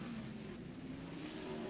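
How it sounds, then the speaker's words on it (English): A race car engine drones steadily as it accelerates onto the straightaway of a 1.95-mile track, loud and continuous with no talk. "Jeff moves the car out onto the straightaway"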